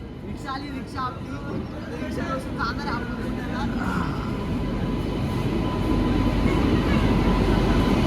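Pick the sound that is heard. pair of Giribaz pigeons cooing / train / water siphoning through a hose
train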